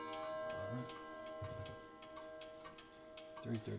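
A Gustav Becker pendulum clock ticks steadily in a room, its regular beats fairly faint and close, with low background murmur and a brief louder thump near the end.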